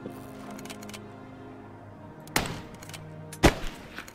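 Video game gunfire: two sharp, close shots cut through a low background hum, the second with a brief rattling follow-up, with quieter clicks scattered around them.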